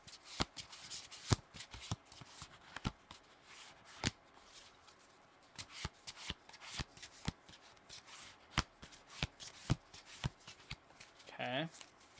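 A new deck of playing cards shuffled by hand, with repeated crisp riffling snaps and light rustling spread through the clip, plus a brief zip of a riffle near the end.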